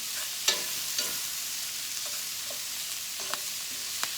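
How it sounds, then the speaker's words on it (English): Cabbage tossed in hot oil and pork drippings in a pan, a steady loud sizzle with a few scraping knocks as it is stirred; no talking. "I'm going to toss it around, get it coated in this oil a little bit"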